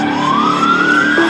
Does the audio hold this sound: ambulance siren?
yes